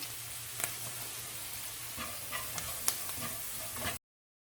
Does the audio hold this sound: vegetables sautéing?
yes